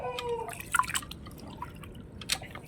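Rice-washing water splashes and drips as it is poured out of a pot of rice, with irregular trickling and a few sharp drops close by, no talking.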